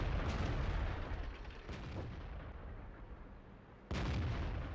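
Heavy artillery blasts from the World of Tanks video game boom loudly and close, with a big impact near the start, a couple of further rumbling bursts, and a sharp renewed blast near the end over continuous battle noise.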